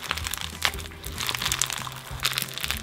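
Crunchy clear slime packed with sequins and glitter is squished by hand, giving dense crackling and crinkling pops in close, irregular bursts with no talking.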